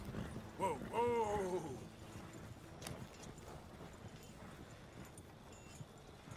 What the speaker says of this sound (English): Just pull the coach into the barn there.